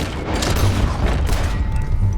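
Gunfire in a Western-style video game, a steady wash of distant rumbling shots and booms running through the whole stretch at even loudness.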